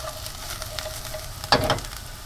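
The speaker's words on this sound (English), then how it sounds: "I'm going to let them go just a little bit longer to give them a little more robust flavor with that caramelizing of the onion here" Onions sauté in clarified butter in a hot pan, a steady low sizzle with scattered crackles and a short louder burst of frying about two-thirds through.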